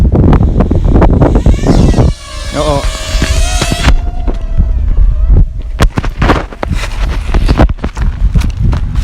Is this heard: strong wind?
yes